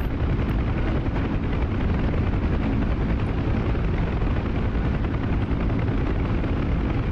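An Apache helicopter in the DCS flight-simulation game roars with a dense, continuous, loud rotor and engine drone, steady and close with no talking.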